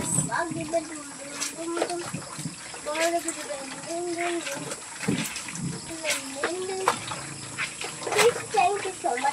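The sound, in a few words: rinsing laundry by hand in water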